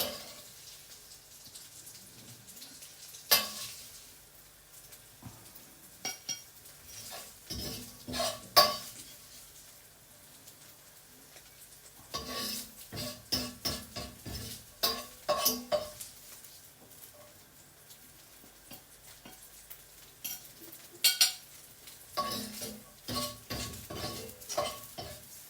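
Food stirred and fried in a not-quite-hot pan while cooking spaghetti with asparagus and bacon: faint sizzling under quiet clinks and scrapes of a spoon against the pan, with occasional louder clatters.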